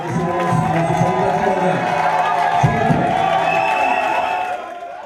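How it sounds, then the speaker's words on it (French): Numerous partisans cheer for Samy Badibanga at a political platform launch, a loud, sustained roar of crowd voices and shouts that holds steady, then eases slightly at the end. "Sous les acclamations de ses nombreux partisans"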